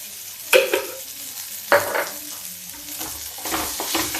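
Onion with turmeric powder frying over low heat in a pan for a village evening snack, a soft steady sizzle broken by two sharp clinks of a spoon stirring and scraping, close up with no voices.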